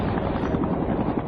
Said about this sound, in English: Traveling in unmarked black helicopters, they headed out 20 miles off the coast of Florida